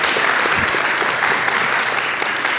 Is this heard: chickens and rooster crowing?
no